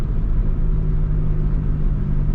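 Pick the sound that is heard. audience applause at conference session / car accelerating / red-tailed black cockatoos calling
car accelerating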